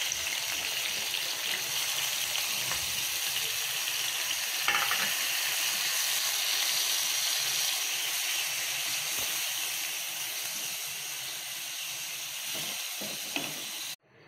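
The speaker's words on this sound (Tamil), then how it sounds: "முந்திரி வறுத்த அதே பேன்லேயே இப்போ பூசணிக்காய் ஆட் பண்ணுறீங்க" White pumpkin fries in the same pan just used for roasting cashews, a loud, continuous sizzle with occasional stirring scrapes, easing slightly toward the end before cutting off.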